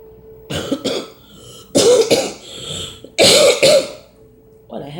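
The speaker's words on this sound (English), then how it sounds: "I had a cough." A woman coughs and clears her throat in three sharp, raspy clusters after coffee went down the wrong pipe, close and loud, with a short voiced sound at the end.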